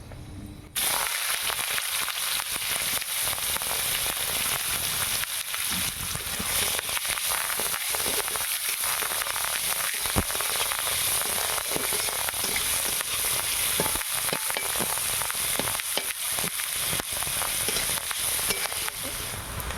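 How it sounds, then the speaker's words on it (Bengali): Chopped onions with a bay leaf fry in hot oil in a kadai for a snail meat curry, giving a steady, dense sizzle that holds at an even level throughout, with occasional faint stirring scrapes and no voices. "এখানে আমার পেঁয়াজটা ভাজা হয়ে গেছে"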